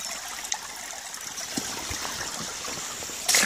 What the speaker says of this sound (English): It's a grand little stream.